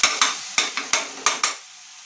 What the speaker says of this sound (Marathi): चांगल्या प्रकारे आपण फ्राय करायचं आहे.